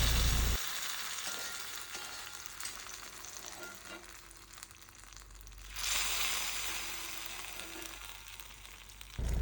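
Mustard seeds, dried chillies and curry leaves sizzle in hot oil for a Kerala pulinkari, a steady, close hiss of frying with a brief louder surge midway.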